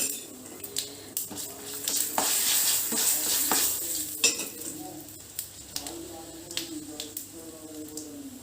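Dried red chillies and tempering seeds sizzle in hot oil in a pan for gongura chutney, a bright crackling hiss with sharp pops and spoon-against-pan clinks as the mixture is stirred.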